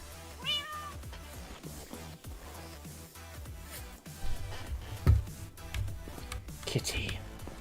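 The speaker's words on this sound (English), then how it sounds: "Kitty." A cat meows several times at close range, mixed with people talking and whispering, occasional thumps and scattered background clatter.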